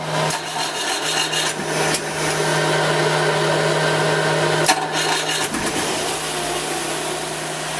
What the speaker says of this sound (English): let's go ahead and start the generator. You can hear the blower running.